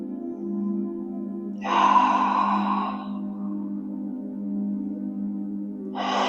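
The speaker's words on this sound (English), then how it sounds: "inhale through your nose and exhale through your mouth" Breathing exercise: two distinct audible breaths, one long, airy breath lasting about a second, then a second breath beginning near the end, over a steady low hum, close and fairly soft, with no talking.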